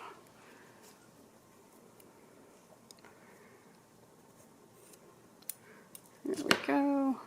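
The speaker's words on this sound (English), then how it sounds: "I'm going to grab my scissors and cut it off" Scissors snip crochet yarn close to the mic, a quick cluster of small clicks and a louder crunch near the end after a quiet stretch of soft handling noise.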